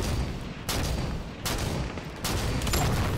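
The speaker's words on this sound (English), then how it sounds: "I got someone with the sniper. I took a couple of shots, yes." Three sharp, loud sniper rifle shots in Halo 5, spaced less than a second apart over a dense rumbling game background.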